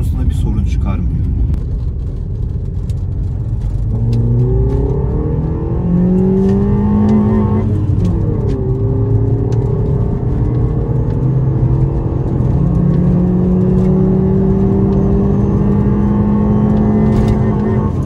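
A Chevrolet Aveo 1.2 engine revs and climbs in pitch as the car speeds up, shifting gears, with people talking over the steady road noise.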